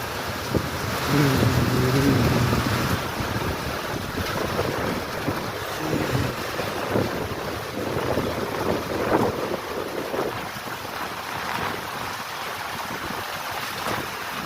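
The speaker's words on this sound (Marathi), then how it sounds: "पाऊस बघा कसला जोरात चाललाय" Steady, dense wash of heavy rain roaring continuously, with gusty wind noise buffeting the microphone throughout.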